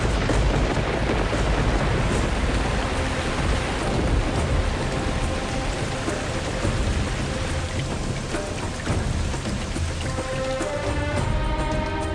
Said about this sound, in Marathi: आणि मग पावसांच्या रिमझिम धारांचा वर्षाव सुरू झाला.